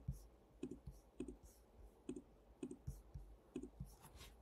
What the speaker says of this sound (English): We can then click add new user.